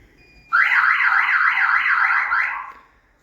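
An intrusion alarm on a security fence goes off suddenly, a loud, close siren that warbles up and down for about two seconds and then fades.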